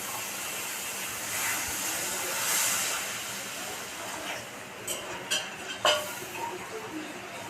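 Water hits hot fried masala in a pan with a broad, rushing hiss that swells and fades, followed by a few sharp utensil clinks against the pot.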